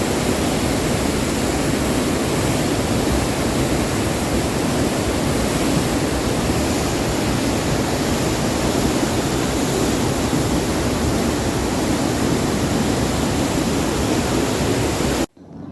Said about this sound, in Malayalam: എന്തൊരു ഭീകരമായിട്ടുള്ള കുത്തിയൊഴുക്കാണ്